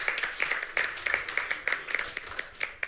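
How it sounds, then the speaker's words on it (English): Sparse clapping from a small group at a manufacturing event, individual claps distinct and loosely rhythmic, fairly close, thinning and uneven across the few seconds with no talk. "let's give a round of applause for everyone involved in today's Manufacturing Nebraska's Future event"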